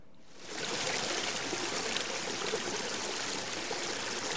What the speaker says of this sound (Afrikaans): Dis 'n stroompie wat ek opgeneem het